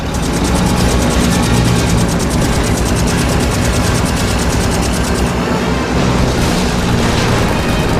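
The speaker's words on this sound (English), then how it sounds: "Listen, I hear airplanes." Aircraft engines droning overhead in the World War II game The Saboteur, a loud, constant roar with a throbbing, pulsing edge that fills the whole stretch, with no voices over it.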